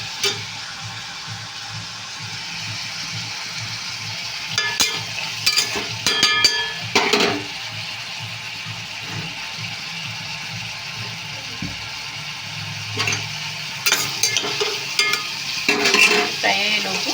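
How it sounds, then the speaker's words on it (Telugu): Onions fry in hot oil with a steady bubbling sizzle, joined by bursts of spoon scraping and clattering against the pan around the start and again near the end, heard close up with no talking. "ఈ లోపు అయితే ఉల్లిపాయలు అయితే ఫ్రై అవుతున్నాయండి."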